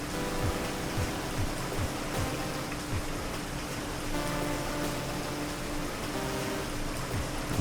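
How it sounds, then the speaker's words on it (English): Heavy rain falls in a video game near an overgrown graveyard, a dense, steady hiss with scattered drops pattering throughout and no talking. "It's raining. It's raining hard."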